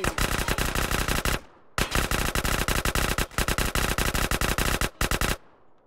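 Dual-wielded guns in GTA San Andreas fire in loud, rapid automatic bursts, with three long volleys separated by brief pauses and a final shorter burst.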